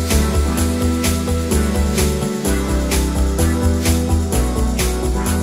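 An electronic music track plays as a full mix: a steady kick and bassline pulse under warm sustained chords and bright hi-hat and percussion hits, loud and continuous, with one short drop in the bass partway through.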